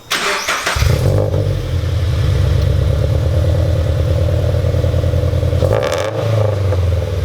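A Nissan G35 engine with one catalytic converter and one resonator catches and settles into a deep, throaty exhaust rumble, loud and close, with a brief dip and surge partway through as it revs.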